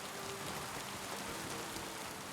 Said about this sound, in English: Oh no, it can't rain today.